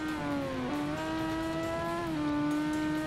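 A Yamaha R6 motorcycle in the RIDE 2 video game accelerates with a steady, high-pitched engine whine. The pitch dips briefly with each gear change and then climbs again, fairly faint and with no talk.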